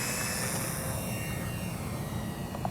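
An X-Fly Spitfire RC model warbird plane's engine drones steadily during takeoff, a loud continuous whine close by with no talk over it.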